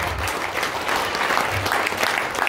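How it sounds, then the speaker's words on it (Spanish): Congregation applauding during a church wedding service, a dense continuous burst of clapping throughout, close and loud. "Dele palmas a mi Cristo."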